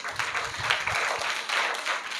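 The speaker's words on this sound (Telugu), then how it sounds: "ఒకసారి అందరూ కూడా క్లాప్స్ కొడదాం." An audience at a children's magic show during a church holiday Bible school event claps together, a steady dense patter of applause that holds for a couple of seconds.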